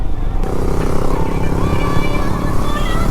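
A motorcycle being ridden on the road, engine droning steadily and close with wind noise, humid weather with rain threatening.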